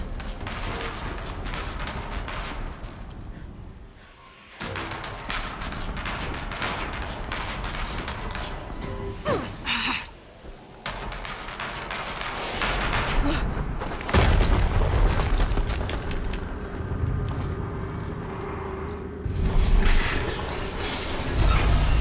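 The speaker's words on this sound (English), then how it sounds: "Another explosion." Loud, dense explosions and booming gunfire from a Horizon Zero Dawn Remastered battle, with heavy blasts, mechanical creaks and rolling rumble filling the scene almost continuously, swelling further near the end.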